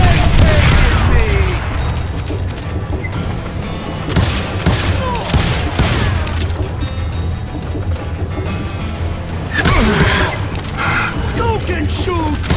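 Gunfire and blasts in the Western shooter game Call of Juarez Gunslinger, loud repeated volleys and booms over busy game sound, with voices speaking in between.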